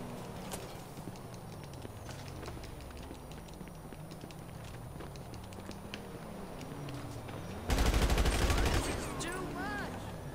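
Gunfire in GTA Online crackles as a steady stream of rapid shots with a heavier, louder burst near the end, fired close by while a person talks.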